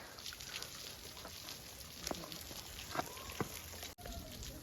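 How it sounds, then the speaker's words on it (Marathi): Steady patter of rainwater falling from above at Jivdhan Fort in Maharashtra, like a cascade splashing down, continuous and fairly faint, with a few sharper drips standing out. "पण आता इथं हे वरून पाणी पडतंय पावसाचं"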